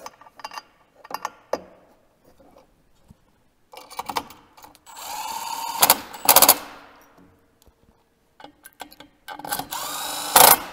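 An impact wrench fires in several short bursts, tightening primary clutch bolts on a snowmobile or vehicle clutch in a star pattern, with loud rattling hammering pulses separated by pauses and faint handling clicks.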